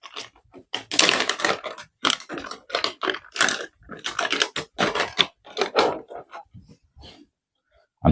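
A nylon or plastic bag around a new audio interface crinkles and rustles in irregular close bursts, with brief pauses between handling noises.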